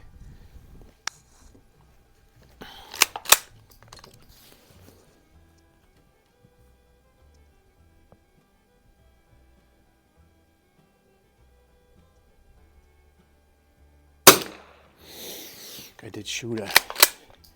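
Sharp, isolated cracks from a 1916 Remington Target Model 12-C NRA rifle at a shooting range: one early, a close pair a couple of seconds later, then a loud report near the end, with a brief spoken remark and handling noise.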